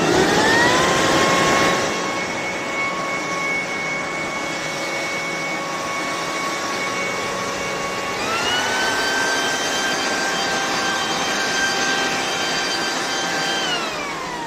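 Black+Decker corded electric blower/vacuum/mulcher running: steady whining motor roar, close and constant, with its pitch stepping up partway through and settling at a higher whine.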